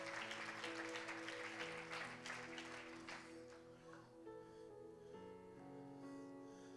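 A church congregation claps during a sermon, a brisk burst of applause over background music that thins out after a few seconds, leaving the music playing on its own.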